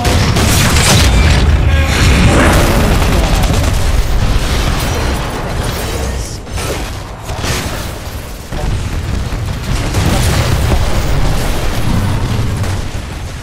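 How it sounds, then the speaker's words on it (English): Titan laser core firing in Titanfall 2 during a titan brawl, a loud sustained roaring energy beam with booming blasts that holds steady for several seconds, dips briefly midway, then surges again. "Firing laser core."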